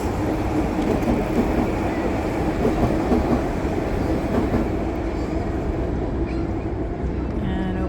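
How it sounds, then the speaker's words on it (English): A Vancouver SkyTrain passes nearby on its elevated track, a loud, steady rumbling roar with faint rail clatter that fades slightly toward the end. "And SkyTrain."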